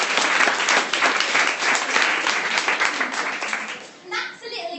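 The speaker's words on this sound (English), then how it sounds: "Can we give her a clap?" A charity meetup audience claps for a photographer in a steady, dense burst of applause that fades near the end as a voice begins speaking.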